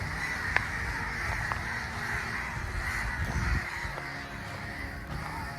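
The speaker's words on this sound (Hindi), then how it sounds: "ये कौवे हैं। कौवों की आवाज़" Several crows caw repeatedly at a moderate distance in a city forest, over a steady outdoor background hum, with no talking.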